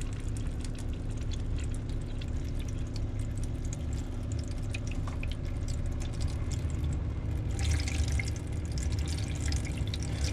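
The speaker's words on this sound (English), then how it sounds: "and then eventually" Water runs steadily from a caravan tap, a constant rushing flow with a few drips, growing a little brighter and stronger near the end.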